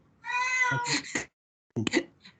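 An elderly 22-year-old cat meows loudly during an online meeting, two drawn-out close calls separated by a short pause.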